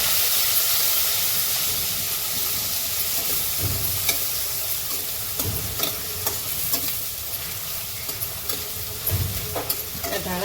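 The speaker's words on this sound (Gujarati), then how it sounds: "આદુ મરચાં ને લસણની પેસ્ટ, આપણે ટમેટું નાખીશું" Chopped tomato going into a hot pan of sizzling ginger-chili-garlic paste for a coriander and gram flour sabzi, a loud steady frying hiss with stirring scrapes and clatter throughout.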